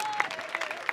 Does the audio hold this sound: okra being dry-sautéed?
no